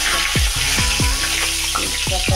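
Bay leaf and spices temper in hot oil with a bright, continuous sizzle, punctuated by several sharp spitting pops and clinks from stirring, close and alone.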